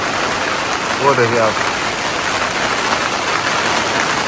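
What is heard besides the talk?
hailstorm falling outside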